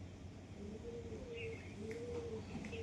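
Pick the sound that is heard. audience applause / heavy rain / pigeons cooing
pigeons cooing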